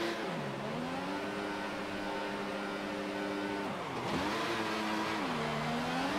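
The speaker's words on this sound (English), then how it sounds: "Alright, wheel spin. Easy now." An F1 car in the video game F1 2014 spins its wheels at the race start of the Austrian GP: a high engine whine holds steady, dips sharply, then climbs and settles again, close and continuous.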